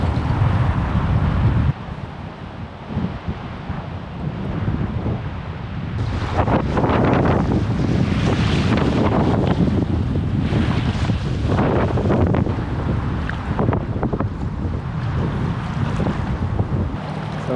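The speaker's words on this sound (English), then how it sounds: "in the hope that I can get a bit of shelter from the wind in here" Strong wind buffets the microphone on a river during a packrafting trip in wind and rain, roaring steadily throughout with gusts swelling louder after the first few seconds, mixed with faint water wash.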